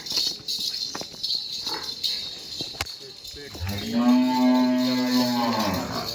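A large young female Murrah buffalo with four teeth at a livestock sale gives a deep, drawn-out low of a few seconds, loud and near, after scattered rustling and faint background noise.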